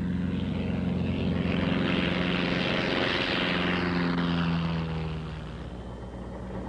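A propeller airplane takes off or lands in a gusty crosswind, with a loud, steady engine and propeller drone that swells to a peak and then eases as the aircraft moves away. No voices are heard.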